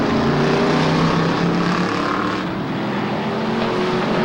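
Race car at Silver State Raceway in 1994 roaring past at close range during a race, a loud, dense engine blast that dips slightly midway and then holds.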